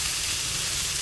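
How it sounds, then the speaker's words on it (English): Steak sizzling on a grill, a steady close hiss and crackle of searing meat heard alone for a brief moment. "Not sure if you can hear the sizzle, but it sounds nice."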